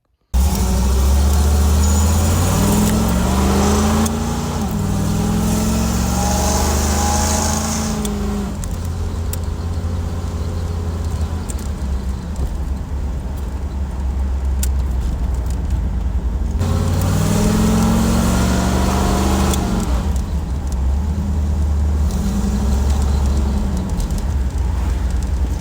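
A car with a failing 700R4 automatic transmission driven along the road, heard as a loud continuous engine drone with rising and falling revs and gear-change swells, close and sustained, with no talking.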